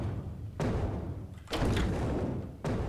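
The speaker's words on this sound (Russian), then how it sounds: "Где-то кто-то ломает дверь." In the video game Zompiercer, something batters a door somewhere out of sight, giving a few dull, muffled thuds at uneven intervals.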